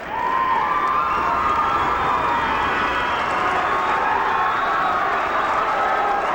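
A big crowd at a 1981 high school wrestling championship final cheers and applauds, a loud, dense roar of shouts and clapping that holds steady throughout.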